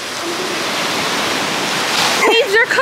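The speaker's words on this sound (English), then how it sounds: "Waves are coming." Ocean waves wash onto a beach in a continuous loud rushing surf, and people talk briefly near the end.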